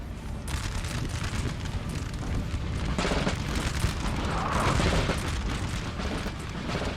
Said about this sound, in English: a nice volley from these grenadiers